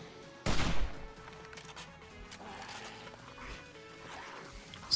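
Hunting rifle fires in the zombie survival game 7 Days to Die, one loud booming shot followed by fainter in-game rumbles and clatter, the blast clearly dominating the otherwise quiet scene.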